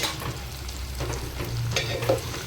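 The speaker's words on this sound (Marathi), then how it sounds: "आणि पुन्हा ह्याला छान मिक्स करूया।" Fried onion and chopped tomatoes sizzle in a pan while being stirred for a Maharashtrian monsoon wild-vegetable dish, a constant close frying hiss with soft intermittent scraping strokes.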